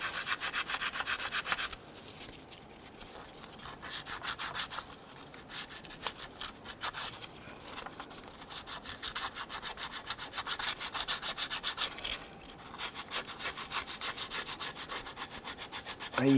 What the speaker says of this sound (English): So I'm going to use some 240 sandpaper on a strip. I'm going to gently work it on that shaft there and on the sides.